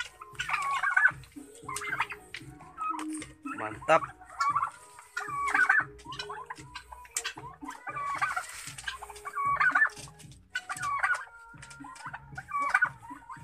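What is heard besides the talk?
turkey gobbling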